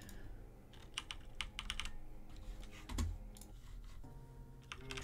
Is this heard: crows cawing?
no